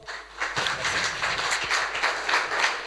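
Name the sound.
audience applauding the Citibank data officer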